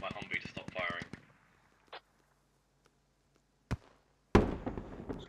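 Humvee-mounted gun in a military shooter game fires a rapid burst of close, sharp shots, then falls quiet apart from a few isolated distant cracks before a heavier blast lands near the end.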